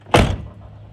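A driver's side door on a 1988-1998 Chevy C/K 1500 pickup truck, just refitted, swings shut with one close, solid thunk and a short rattling tail, heard alone.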